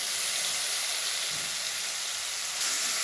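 Finely chopped tomatoes hit a hot pan of spiced oil with turmeric, asafoetida and coriander powder for a cluster bean curry, giving a steady, loud broadband sizzle and hiss that swells slightly near the end, with no voices.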